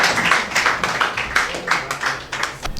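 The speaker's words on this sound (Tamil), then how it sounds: "அவருடைய கைகளை தட்டி கொஞ்சம் அவருக்கு ஆரவாரம் பண்ணுங்க." An audience at a Tamil housewarming gathering claps for a speaker, a steady patter of many hands with rhythmic swells, close and fairly loud, with faint voices beneath.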